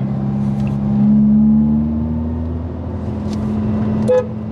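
A car horn sounds a sustained toot over a running engine nearby, followed by a brief higher beep near the end.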